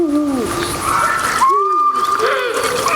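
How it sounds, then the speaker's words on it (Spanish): An eagle owl hoots during breeding season in a Spanish oak forest, with deep repeated calls sliding in pitch and close and loud, overlapping other distant calls and birdsong. "la época de celo del búho real"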